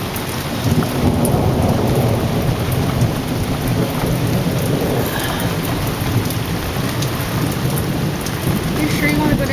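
Heavy thunderstorm downpour drums loudly and steadily on surfaces, with low rolling thunder rumbling underneath throughout, close and constant with no talking.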